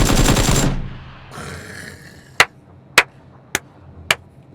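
Gunfire in the video game PUBG (Battlegrounds): a brief noisy burst, then four sharp, loud single shots spaced about half a second apart.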